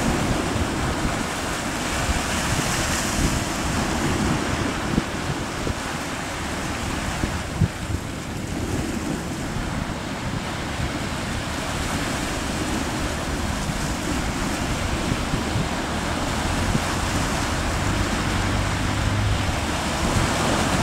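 A fishing boat pushing through big waves in strong wind at sea, with constant loud roaring surf and gusting wind noise throughout.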